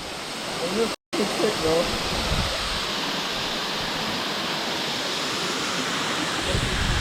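Cascade Falls in Jamaica pours as a constant loud rushing wash of water, close by. A voice shows up faintly early on, and there is a brief cut near the start.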